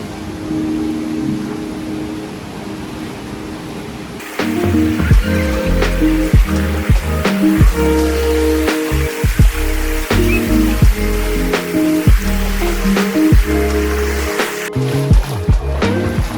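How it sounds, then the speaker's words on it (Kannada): A waterfall on a trek near Robbers Cave in Dehradun gives a loud, continuous rushing roar that swells after a few seconds, with scattered sharp clicks and knocks over it. "ಇಲ್ಲೇ ನೀರು ಬೀಳೋದು ಫಾಲ್ಸ್."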